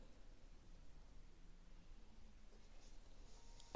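Pen writing Chinese characters on paper, a continuous faint scratching with small stroke accents, close and quiet under low background hiss.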